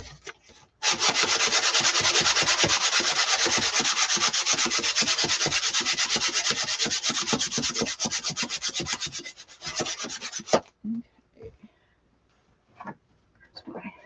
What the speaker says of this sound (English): I'm also going to do a little bit of sanding off camera because this is a little rough.